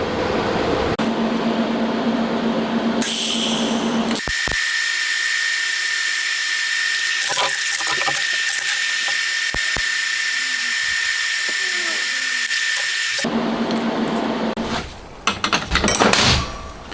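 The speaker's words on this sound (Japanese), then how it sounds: "で仮止め終わったので、外して本溶接しますね。" Welding on the cowl of a Honda RC146 replica motorcycle: a steady, loud hissing buzz with a thin high whine that runs continuously, broken by brief crackles.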